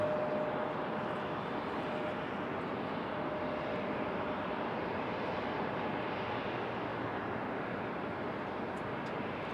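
A Lufthansa airliner taxis at Raleigh-Durham airport, heard as a steady, distant jet-engine rumble and hiss that holds unchanged throughout. No talk is heard.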